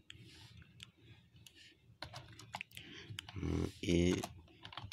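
HTML code is being typed on a computer keyboard in quick, uneven bursts of soft key clicks, close by, while a person talks over part of it.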